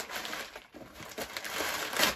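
Plastic packaging around a rainbow sequin Ariel Loungefly backpack crinkles and rustles close by in irregular bursts as it is unwrapped, growing louder toward the end.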